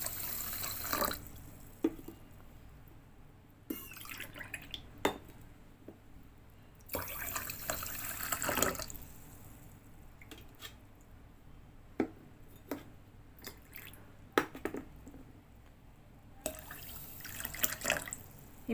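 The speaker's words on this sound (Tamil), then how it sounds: "இதில் நான் 3 டம்ளர் தண்ணி விட்டுக்க போகிறேன்." Water poured from a tumbler into soaked little millet in a pot for cooking, a soft intermittent splashing and trickling in several short bursts, close and fairly quiet, with no talk.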